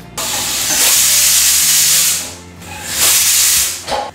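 A pressure cooker cooking dal for dal tadka lets out loud bursts of hissing steam, two long whistling blasts separated by a brief dip, close and strong over a low stove hum.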